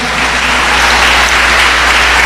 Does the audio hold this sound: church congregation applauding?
yes